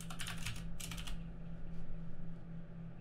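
Rapid keyboard typing in a quiet room while building a settings menu in Unreal Engine 4, with a quick burst of close clicky keystrokes that stops after about a second, leaving low hum.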